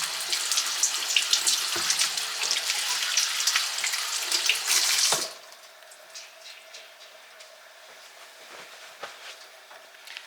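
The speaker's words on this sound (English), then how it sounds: "I'm going to work on rinsing these, I think they're Gala apples" Running tap water pours steadily over Gala apples being rinsed at a kitchen sink, a close, bright splashing stream for about five seconds before the tap shuts off, leaving faint drips and quiet room sound.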